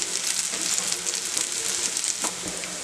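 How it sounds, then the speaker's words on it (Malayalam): Curry leaves and chopped green chillies sizzle with onions in a hot pan for a lady finger masala, giving a continuous, close crackling hiss with a few sharper pops and no speech. "ഒരു 3 ചെറിയ പച്ചമുളക് ചെറുതായിട്ട് അരിഞ്ഞത്, ഇത്രയും കൂടെ ചേർത്ത് ഇതൊന്നുകൂടി നമുക്ക് വഴറ്റിയെടുക്കാം"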